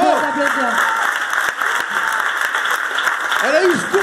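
Audience applause for Virginie Marson and the Prisme team at a December stand-up comedy showcase, steady clapping filling the room, with voices and brief vocal bursts over it.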